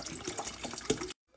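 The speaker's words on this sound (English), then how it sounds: "Now I'm gonna add some water." Water poured into a cooking pot of seasoned food with chicken bouillon, oregano, salt and pepper, a steady close splashing fill for about a second before it stops abruptly.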